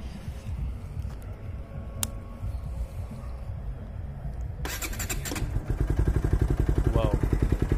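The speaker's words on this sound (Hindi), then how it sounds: "आज करीब मैं 10 दिन में मेरी बाइक जो है स्टार्ट करने वाला हूँ" An old Bajaj motorcycle with an aging battery cold-starts after sitting ten days, cranking and then catching into a loud, rapidly pulsing idle close by, with a person talking over the start.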